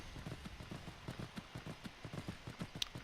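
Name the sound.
horse hooves clip-clopping while riding in video game Skyrim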